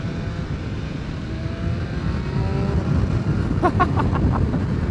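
A 2021 BMW M 1000 RR motorcycle accelerates and quick-shifts from first into second gear, the engine note rising with a brief clipped cut near the end, heard over steady wind rush.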